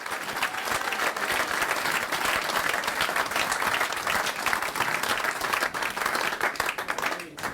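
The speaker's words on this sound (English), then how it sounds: "Give him a big round of applause" Sustained applause from a sizable crowd, dense and steady throughout, loud and close, with no talking over it.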